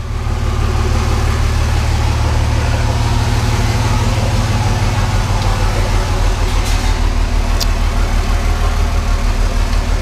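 A RAM pickup truck engine idling with a steady, loud, low rumble and a fast regular pulse that continues unchanged throughout, heard close up.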